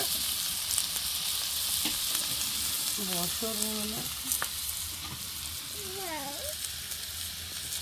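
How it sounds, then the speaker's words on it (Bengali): Bitter gourd (karela) frying in a pan with small cut potatoes, a steady broadband sizzle lasting throughout, with a few faint cat-like cries or voice sounds briefly in the middle and near the end. "এই যে করলাটা ভাজি হচ্ছে"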